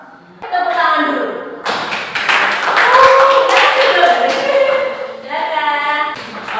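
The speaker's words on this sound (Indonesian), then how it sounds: "Tepuk tangan dulu." A class claps hands together for several seconds, a burst of quick irregular claps mixed with voices talking over and around it.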